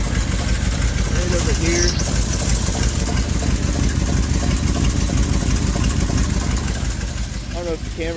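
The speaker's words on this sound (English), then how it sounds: "there's a serious exhaust leak back here." A 1979 vehicle's engine idles steadily and close by, with a rough, puffing exhaust sound from a serious exhaust leak at the rear. Someone speaks briefly over it.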